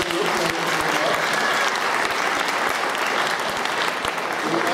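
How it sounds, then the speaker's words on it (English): A hall audience at a meet-the-judges event for Clark County district court candidates gives a panel a sustained round of applause, dense and even throughout, with a few voices faintly mixed in. "let's give a round of applause for this group."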